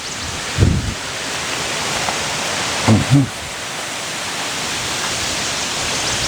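Steady broadband wind rushes outdoors beside a project car in a shop yard, a constant roar throughout with a couple of brief low thumps and no talk.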